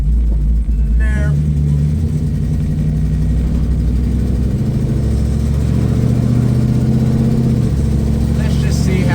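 A Plymouth Satellite with a 274 engine cruises at 75 mph around 1800 RPM, producing a loud, steady low drone with road rumble inside the cabin, and a voice talks over it.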